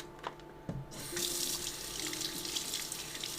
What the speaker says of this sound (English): I'm gonna pour this down the drain.